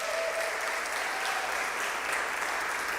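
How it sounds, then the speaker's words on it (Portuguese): A church congregation giving a round of applause for a family during a celebration service, continuous dense clapping at an even level throughout, with a faint tone underneath. "A salva de palmas para essa família"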